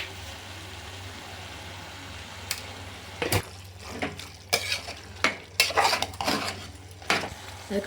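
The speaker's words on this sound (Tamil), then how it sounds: "போட்டு நல்லா கிளறி விட்டுக்கிட்டு" Chicken kulambu being stirred in a pan: a quiet background hum, then a string of sharp metallic scrapes and clacks of a utensil against the pan, irregular and close, with no speech.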